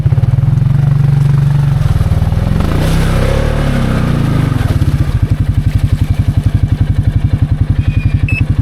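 A Can-Am Outlander ATV with an XMR700 18% gear reduction on 33-inch tires revs hard on a steep climb, a loud, close, rough engine drone that shifts into a fast pulsing chug as it labors.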